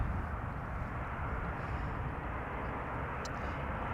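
Transavia passenger jet arriving from Pisa at Amsterdam Schiphol Airport, a steady broadband engine roar holding constant throughout, heard from a distance with no voices.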